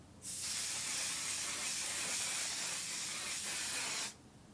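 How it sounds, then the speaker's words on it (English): Aerosol setting spray hisses from a can in one steady, close, loud burst lasting about four seconds, then cuts off sharply. "It's one of those aerosol cans, so I'll spray it so you can see what it looks like."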